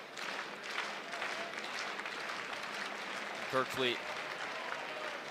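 A wrestling crowd at a college dual meet builds a slow, rhythmic clap, with soft evenly spaced claps mixed into arena murmur under a commentator's steady talk.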